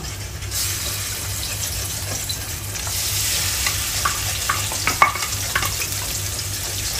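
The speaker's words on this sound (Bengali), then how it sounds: "তো আমি চিংড়িকে ভেজে নিব 1 মিনিটের জন্য" Shrimp fry in hot oil for fried rice, with egg already in the pan, giving a steady close sizzle; scraping stirs and clinks grow busier in the second half.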